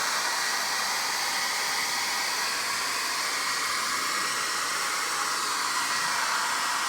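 A Conair hair dryer blows steadily while heating window insulation shrink film, a loud continuous hissing whoosh that holds level throughout with no break.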